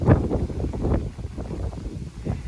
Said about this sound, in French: Paraît qu'il nous faut de la pluie. Alors d'accord, mais peut-être pas autant de vent.